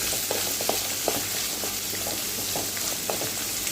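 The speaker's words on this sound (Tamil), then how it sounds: "வெங்காயம், தக்காளி இது ரெண்டையும் இது கூட வதக்கிக்கலாம்." Onions and tomato sautéing in a pan for ginger chutney, with a steady dense sizzle of frying and occasional clicks of stirring, close and continuous throughout.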